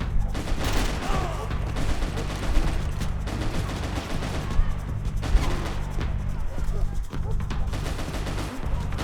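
Sustained gunfire from the video game Max Payne 3, with dense overlapping shots and bursts rolling on continuously for the whole stretch, loud and busy, with a tonal game hum beneath.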